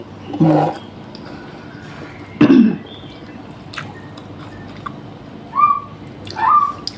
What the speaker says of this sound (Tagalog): ang ingay naman ng ibon